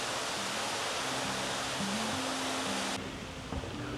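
Waterfall at Lover's Leap in Rock City, a dense continuous rushing roar of falling water, loud and steady, with faint tonal music-like notes underneath and a slight drop in intensity near the end.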